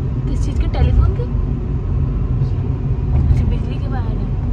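Road rumble fills a car cruising down a highway near Ghaziabad, a steady low drone heard from inside the vehicle while someone talks over it.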